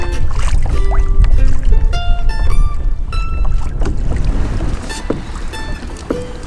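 A new small sea scooter rides across a flat sea on a fishing outing, with a loud, steady rush of water and engine noise mixed with wind buffeting the microphone.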